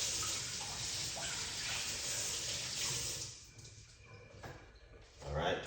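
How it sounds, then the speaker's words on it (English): Kitchen tap water running while rosemary is washed, a loud steady gushing stream close by that cuts off after about three seconds, followed by faint drips and handling, then a brief splash. "let's wash out some more of my rosemary"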